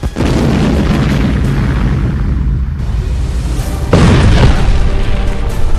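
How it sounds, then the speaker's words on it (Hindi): Heavy bombardment striking Russian positions in the Kherson area of Ukraine: loud, sustained booming rumble with a fresh powerful blast about two-thirds through, rolling on without speech. "जहां पर रूस के ठिकानों पर भीषण बमबारी की गई है"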